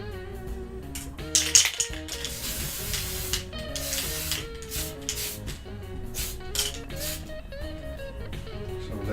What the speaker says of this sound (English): we're going to work with this Tamiya surface primer. I'm just going to prime it up first